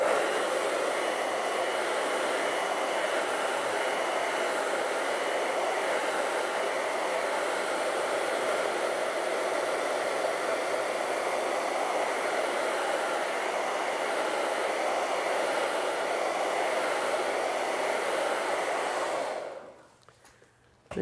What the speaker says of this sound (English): You're going to find the hairdryer drying in there.